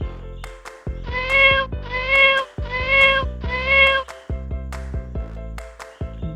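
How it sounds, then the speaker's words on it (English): A cat meows four times in a steady sequence, each call drawn out and tonal, set against a plucky musical backing with nobody speaking. "cat,"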